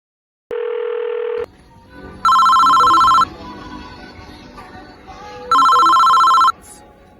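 A mobile phone ringtone sounds close and loud in three electronic bursts: a lower tone first, then two brighter, higher melodic rings separated by short pauses, with faint background noise between.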